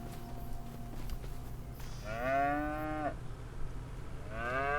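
Cows mooing on a farm while being fed silage, two long drawn-out moos close by over steady low machinery hum, the second call rising near the end of the stretch.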